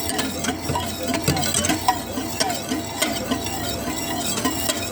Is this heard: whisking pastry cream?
yes